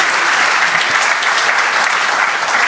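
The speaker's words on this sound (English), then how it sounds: "how about a big round of applause to our 4 gentlemen for the excellent discussion" An audience at an executive roundtable gives the panelists a loud, dense round of applause, with many hands clapping steadily and close throughout.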